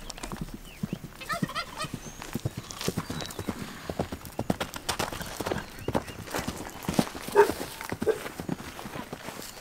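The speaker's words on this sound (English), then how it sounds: "I don't think I've ever really been around a horse this tall." A tall horse walks nearby, hooves clip-clopping in an uneven rhythm of distinct knocks, with a brief whinny or fowl-like gobble and quiet voices in the background.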